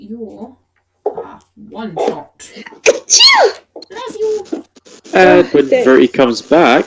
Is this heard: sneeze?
yes